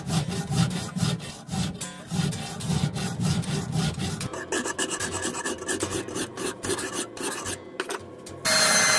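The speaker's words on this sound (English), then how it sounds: "File off the excess." An old machete is filed by hand, repeated rasping strokes in a steady back-and-forth rhythm, close and loud, with the scraping growing harsher partway through.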